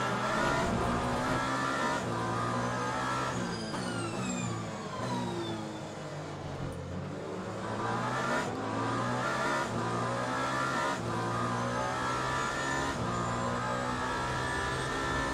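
LMP2 prototype race car in the Le Mans Ultimate racing game, engine roaring at high revs with pitch sweeping down as it passes close by, loud and continuous with gear shifts throughout.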